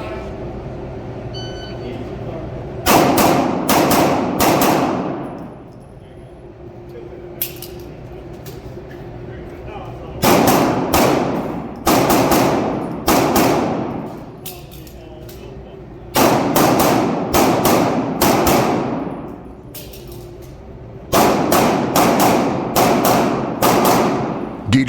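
Gunshots at an indoor USPSA shooting match, sharp cracks fired in quick clusters of several shots with pauses between strings, echoing in the room while someone talks over them.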